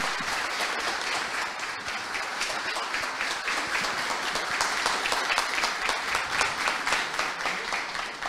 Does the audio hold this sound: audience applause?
yes